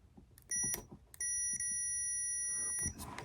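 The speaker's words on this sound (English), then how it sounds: "You can hear the little beep." A multimeter set to continuity gives sharp electronic beeps: one short tone, then a longer sustained beep lasting over a second, faint and close in a quiet room.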